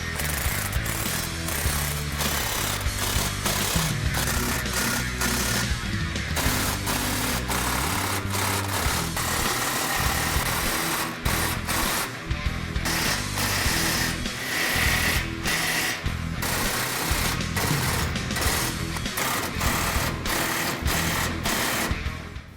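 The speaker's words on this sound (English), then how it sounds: "we're going to tighten everything up now" Rapid clattering ratchet and impact-tool bursts tightening exhaust bolts on a Ford F-150 twin-turbo 3.5L EcoBoost with a Borla cat-back system, loud and close, in repeated irregular runs with brief pauses and no talking.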